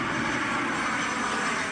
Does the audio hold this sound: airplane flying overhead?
yes